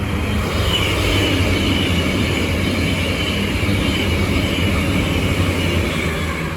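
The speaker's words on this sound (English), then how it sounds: "here's an Avanti West Coast pairing of Class 221 Super Voyagers" Two Avanti West Coast Class 221 Super Voyager diesel units coupled together pass slowly, a steady, loud rumble of engines and wheels on rail that holds throughout with no talk.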